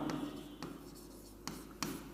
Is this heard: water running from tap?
no